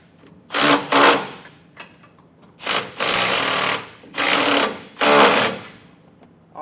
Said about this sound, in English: you can come back with a 9/16 and tighten them down